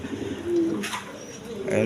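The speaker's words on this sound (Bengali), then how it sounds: "এই দেখেন একদম কোয়ালিটি সম্পন্ন কবুতর" A pair of Mili Resher pigeons with farm leg tags coo close by, with a soft low warbling call in two short bursts over faint background noise.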